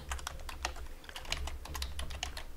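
Quick, light keystrokes on a computer keyboard, a close and fairly quiet run of irregular clicks as a movie name is typed, with no talking.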